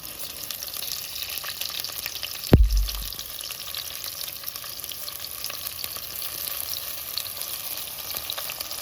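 Chopped onions dropped into a hot pan of oil for a tofu dish, a sudden thump followed by a steady bright sizzle and crackle that continues evenly, with no talking.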